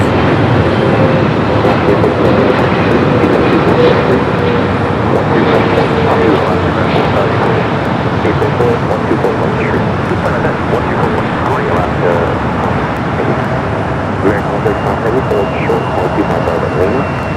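An Air China airliner arriving at LAX from Beijing gives off a constant, loud jet rumble that stays even from start to finish, with talk over the engine noise.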